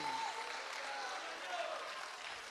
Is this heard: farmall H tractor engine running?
no